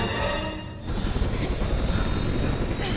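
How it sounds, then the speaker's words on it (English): Helicopter in the Resident Evil 6 video game, a steady loud rotor drone that swells after a brief dip, with game noise and voice faintly mixed in. "Get to the chopper!"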